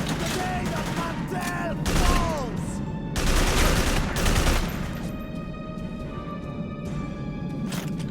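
Gunfire in the video game Haze rings out in loud bursts of rapid shots with ringing metallic tails, a close firefight with shouted voices over it.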